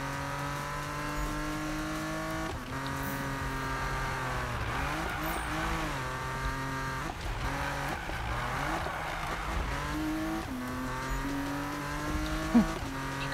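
Racing cars roar through a Need for Speed (2015) chase as two Porsches pursue, with sustained high engine whine, shifting revs and gear changes, and a brief tire squeal near the end, loud and continuous without speech.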